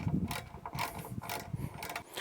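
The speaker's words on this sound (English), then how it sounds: "we're going to go ahead and tighten them down with the same 10mm wrench and 10mm socket" Bolts on a Thor's Lighting air compressor mount for a Jeep Gladiator being tightened with a 10mm socket ratchet and wrench, giving close, steady clicking and mechanical rattling in irregular bursts with no talking.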